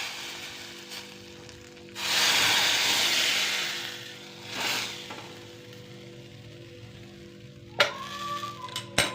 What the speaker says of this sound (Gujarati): સરસ મજાનો કઢીનો વઘાર